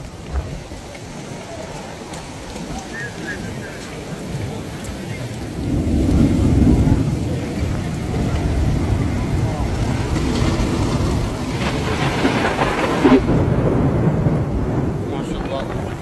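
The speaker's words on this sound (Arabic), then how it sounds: "بس شوفوا قوة الأمطار، قوة الهواء." Heavy rain and strong wind lash Makkah in a storm, a steady roar of downpour swelling midway with gusts, and a brief low rumble that could be distant thunder near the end.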